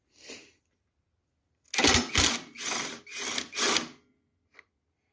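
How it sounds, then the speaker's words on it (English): A cordless impact driver with a deep socket on a Honda HS928 snowblower drivetrain spins nuts onto threads in five loud back-to-back bursts, each a buzzing hammer of roughly half a second, following a brief faint rustle and ending with a small click. "I prefer to use my impact driver, and then you need a nice deep socket to get down over the threads there"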